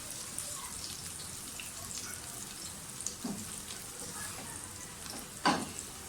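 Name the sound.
chopped garlic frying in pan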